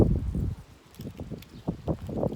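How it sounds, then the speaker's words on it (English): Gusts of wind buffet and rumble against the microphone in uneven bursts, loud at first, then easing and returning. "It's a very windy day today"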